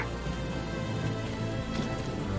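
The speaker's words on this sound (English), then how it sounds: "The rain's not helping." Steady rain falls in the tactical war game Valkyria Chronicles 4, a continuous even hiss of rainfall without pauses.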